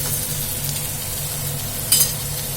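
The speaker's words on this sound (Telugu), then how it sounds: "మనం కట్ చేసుకున్న ఇంగ్రీడియంట్స్ టమాటా ఉల్లిపాయ పచ్చిమిర్చి కొత్తిమీర అయితే అన్నీ వేసేసుకున్నా" Tomato, onion, green chilli and coriander frying in a hot tempering with dried red chilli, a steady close sizzle with a brief sharper crackle near the end, no talking.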